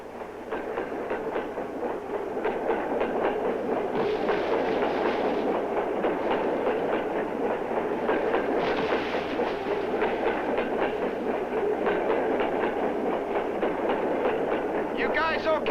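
A moving train rumbles and clatters steadily over the rails, a continuous mid-level wash of rhythmic clacking heard from on board, with no talk.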